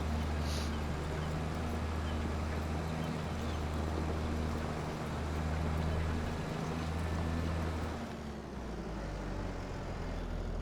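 In Farming Simulator 25, a small tractor's engine drones steadily under load as it pulls a heavy implement on flat ground, a continuous low humming rumble that dips slightly near the end, with no talk over it.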